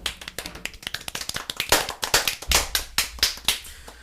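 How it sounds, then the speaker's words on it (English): A small group of people claps for someone in a podcast studio, a brief ragged burst of hand claps, close and uneven, fading after a few seconds. "Hey, claps for Pat."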